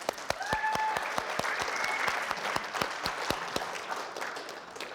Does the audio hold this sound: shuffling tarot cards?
no